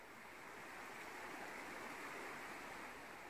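A waterfall cascades in a steady, broad rushing wash of falling water, constant and soft in level, with no voices or other sounds breaking through.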